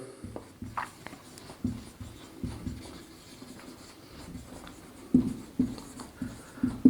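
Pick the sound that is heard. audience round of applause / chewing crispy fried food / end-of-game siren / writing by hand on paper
writing by hand on paper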